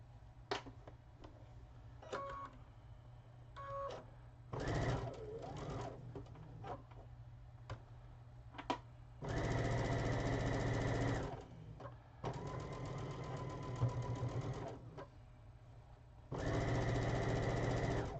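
A sewing machine stitches slowly through a heavy seam in short bursts separated by pauses and small clicks, its motor whirring steadily during each longer run, faint and close.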